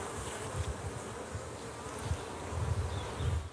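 Honeybees swarm around a migratory beekeeper's hive colony in summer, a dense continuous buzzing hum that swells louder toward the end, with no talking.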